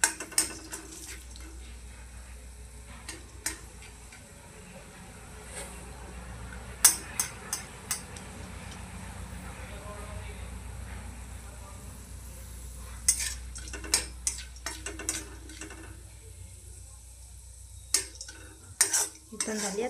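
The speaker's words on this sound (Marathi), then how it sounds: "गॅसमध्ये आपण हरभऱ्याची डाळ टाकून सुद्धा याला सुद्धा थोडंसं असं भाजून घेऊया।" Chana dal roasting dry in a pan over a gas flame for coconut chutney, stirred with a utensil: steady scraping and rattling of lentils against the metal, with sharper clinks of the spoon at intervals, close and fairly quiet.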